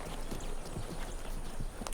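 Horse hooves clip-clop at a steady walking rhythm in an action adventure scene, close and moderately loud over a dense background.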